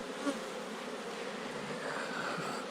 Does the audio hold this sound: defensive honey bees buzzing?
yes